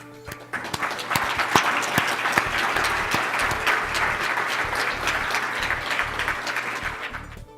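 A conference audience at the Jacobs Levy Center claps steadily to welcome two speakers, a broad, sustained round of applause that swells quickly and holds at an even level before tapering off near the end.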